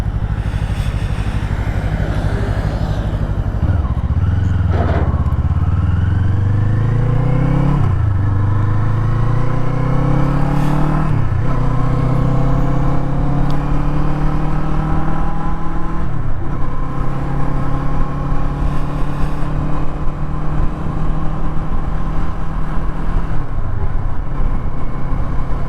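Kawasaki Eliminator 500 motorcycle out on a ride, its engine loud and close with a slightly buzzy note, rising through several gears, each upshift followed by a fresh climb in revs.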